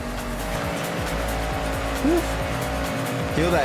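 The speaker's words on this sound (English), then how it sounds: "Feel that engine." Race car engines roar in a racing video game trailer, loud and continuous with rapid gear-shift revs, rising whines and tire squeals as cars pass close by.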